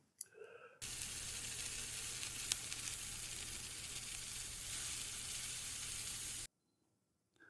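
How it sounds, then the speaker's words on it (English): An onion chars in a hot pan with a steady, loud sizzle and hiss that holds evenly for several seconds, then cuts off abruptly into near silence. "And char the onion."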